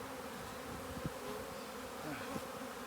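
Bees from a beekeeping setup on a regenerative farm hum in a steady close drone that does not break, with a couple of faint soft knocks and no speech.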